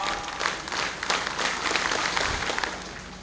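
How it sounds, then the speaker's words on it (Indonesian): Crowd applause at a military flag ceremony led by the Lamongan district commander, dense and steady clapping from many hands held close for several seconds, with faint voices underneath. "Ya, tepuk tangan dulu."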